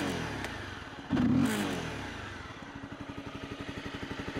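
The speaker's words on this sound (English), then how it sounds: "I'm gonna rev it here. And you will see the RPM." A Honda CBR 250R motorcycle engine revs close by, a sharp throttle blip rising then falling back to a steady, pulsing idle with rhythmic exhaust beats.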